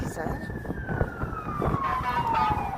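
A fire truck siren sounds on a city street in Toronto on a winter night, one long wail sliding slowly downward, steady and fairly close, under crowd and traffic noise with people talking.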